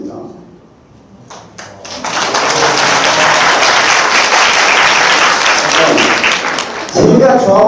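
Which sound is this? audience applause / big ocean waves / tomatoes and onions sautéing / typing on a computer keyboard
audience applause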